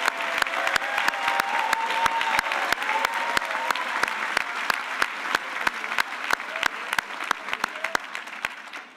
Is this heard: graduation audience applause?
yes